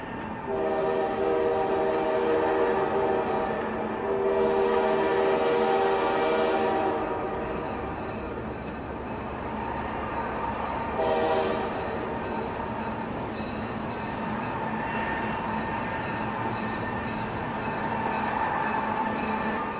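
A mountain train rumbles along steadily on flat track beside a lake while its horn sounds in long, sustained blasts, loud and near.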